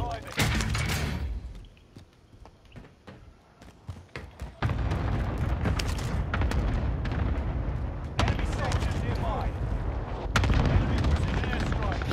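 Precision airstrike explosions rumble across a Call of Duty: Modern Warfare match, with loud booming blasts and gunfire-like bursts filling most of the stretch after a brief lull, while players talk over the chaos.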